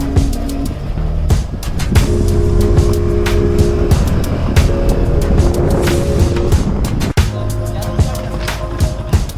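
A vehicle rolls along a potholed road near the coast, a loud steady engine drone broken by repeated bumps and knocks as it jolts over holes.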